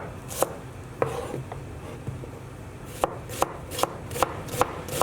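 Peeled garlic cloves finely sliced with a knife on a wooden board, a series of crisp, close chopping taps that start sparse and settle into a steady rhythm.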